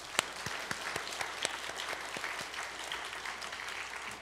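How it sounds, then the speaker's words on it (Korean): A church congregation claps in encouragement for a choir after a hymn, sparse individual claps forming moderate, fairly quiet applause that carries through the whole stretch. "찬양 귀한 찬양해 주셨는데 우리 격려의 박수 한번 해주시죠"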